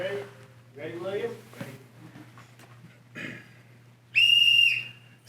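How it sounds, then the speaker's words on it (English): Sharp, loud whistle blast starting a controller showdown contest at the AHR Expo trade show, one sustained high tone near the end, following brief talk by people nearby. "On my whistle, you guys ready?"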